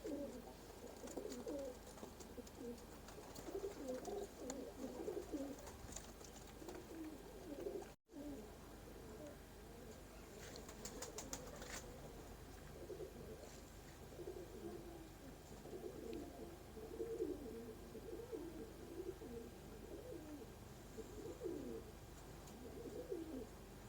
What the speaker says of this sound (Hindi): ये मियाँ साहब वाले कबूतर हैं दोस्तों।